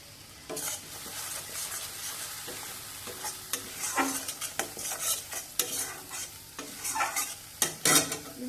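Mustard, ginger and garlic spice paste with coriander and cumin sizzles and fries in a pan for a Bengali fish curry, with repeated scraping stirs of a spoon throughout, close and fairly loud, no talking.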